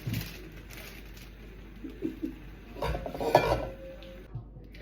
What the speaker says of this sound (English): Spinach has been stirred through